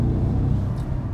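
A 2014 Porsche Cayenne Turbo S engine hums steadily with a low, even rumble while driving, loud and close, with no talk over it.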